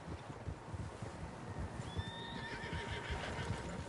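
Several horses in the Red Dead Redemption 2 video game whinny and snort over soft, irregular hoof clops, with a clear rising neigh midway, all fairly quiet against a faint outdoor wind bed.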